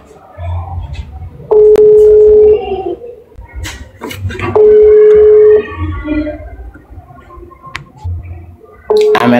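A phone ringback tone sounds in repeated one-second bursts at regular intervals, loud and close, while a person talks between rings.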